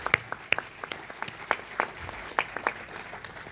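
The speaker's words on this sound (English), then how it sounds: "Round of applause for Sonia." Sparse, scattered clapping rises from a conference audience after a speaker finishes, a handful of close individual claps at an uneven rhythm rather than a full ovation, fading quickly.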